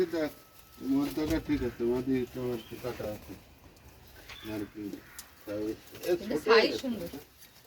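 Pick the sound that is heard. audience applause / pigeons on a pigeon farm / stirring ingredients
pigeons on a pigeon farm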